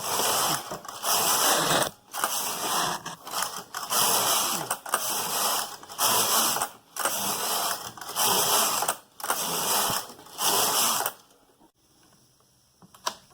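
A Brother knitting machine carriage is pushed back and forth across the bed, each pass a loud rattling, clacking sweep, in a steady run of about eight rows with brief pauses between them before it stops.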